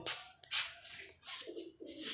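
A pair of Jaunsar pigeons coos softly and close by, with low murmuring calls in short bursts and a few sharp rustles or wing flaps between them.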